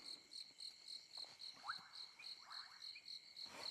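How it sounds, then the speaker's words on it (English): Bubbling cassina frogs call at night in the Lowveld, short rising bubbly notes repeating over a steady, rhythmic pulsing insect chorus, quiet and somewhat distant. "That call that you can hear now, that is of the bubbling cassina"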